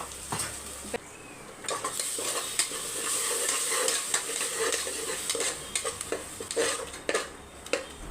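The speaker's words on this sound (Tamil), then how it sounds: "இப்போ அரைச்ச விழுதை சேர்த்துட்டு நல்லா பச்சை வாசனை போகிற அளவுக்கு நல்லா வதக்கி எடுக்கணும்" Ground masala paste for Dindigul-style mutton biryani sautéing in oil in a pan, a steady low sizzle with repeated scraping and stirring clinks of a spoon against the metal, loud and close throughout with no talking.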